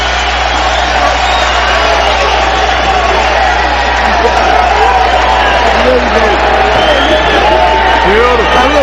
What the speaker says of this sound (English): Crowd and Van Andel up and cheering.